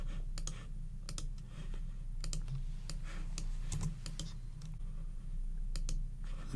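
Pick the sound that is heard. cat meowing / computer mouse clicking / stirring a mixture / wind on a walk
computer mouse clicking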